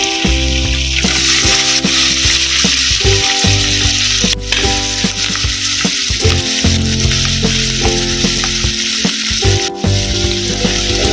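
Onion hits hot oil with tomato, green chillies and ginger-garlic paste for pav bhaji, producing a loud, continuous close sizzle with occasional stirring, over a steady musical backdrop and no talk.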